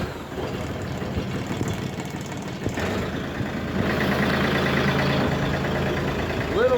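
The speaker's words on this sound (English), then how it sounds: "we're gonna get the tractor started up, let it warm up" A farm tractor engine starts and settles into a steady idle to warm up on a chilly morning, a low rumbling drone that grows slightly louder partway through, with voices in the background.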